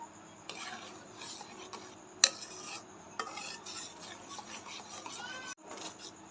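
Milk cream simmers in a pan while being slowly stirred to make ghee at home; a spoon scrapes and rubs the pan bottom in soft, irregular strokes with occasional clinks, quiet and close.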